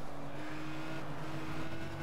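Race cars in the sim racing game GTR2 at Circuit de Catalunya, 2003 season, engines droning steadily at close range with a sustained whine as one car overtakes another.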